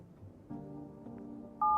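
Telephone keypad tones from dialing a number in the video game No, I'm Not a Human, a string of short beeps ending in a louder sustained dual tone, heard alone with no talk.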